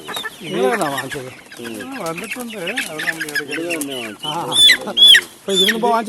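Black Kadaknath-type chickens (karinkozhi) clucking and crowing in a home coop, several birds calling close by in overlapping bursts, with high squawks toward the end.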